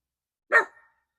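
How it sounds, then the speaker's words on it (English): A single sharp bark from a small dog giving an intruder alert, loud and close, ringing briefly and then silent. "Big bark coming out of that little body."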